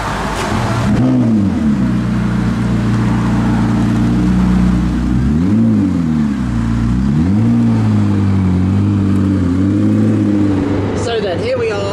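A Porsche 918 Spyder drives on the road, heard from inside the cabin as a loud, steady engine drone that rises and falls in pitch with speed changes, with occasional speech over it.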